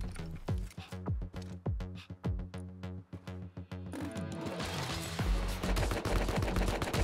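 Rapid bursts of AK rifle fire in the survival video game Rust, loud sharp shots in quick clusters with brief pauses, followed by denser continuous shooting near a gas station.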